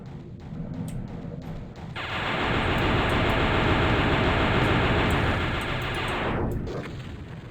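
A spider mastermind's chaingun in a Doom game mod fires a sustained, loud burst of rapid gunfire for several seconds, a thick roaring wash that starts abruptly and cuts off sharply.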